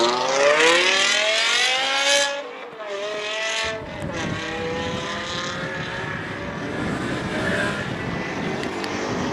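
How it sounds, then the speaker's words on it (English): A Ford Mustang Mark 1 race car, number 28, climbs a hill at a classic speed event in Cape Town, its engine loud and close with rising and falling revs through gear changes, and a harsher, rougher roar after a brief dip. "Gino Nurse now taking on the hill almost towards the end, the final sector approaching, driving the Mustang Mark 1, number 28"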